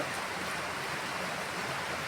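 Heavy rain pours down steadily, a dense, continuous hiss of falling water close by with no breaks and no voices.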